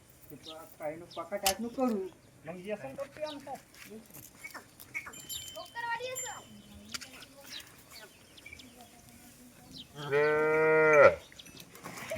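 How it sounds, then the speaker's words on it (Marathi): A dangerous bull being brought under control with a rope gives one loud, drawn-out low near the end, after scattered talk and village noise. "खतरनाक बैल को कैसे काबू में किया जाता है"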